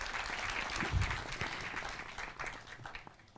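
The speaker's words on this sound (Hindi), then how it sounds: "तो तालियों के साथ उनका स्वागत करते हैं इस कार्यक्रम में" An audience at an India Legal event gives a steady round of applause to welcome guest Justice Hemant Gupta, a soft, even patter of many hands that holds for a few seconds and then gradually fades.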